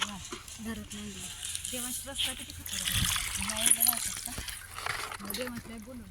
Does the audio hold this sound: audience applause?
no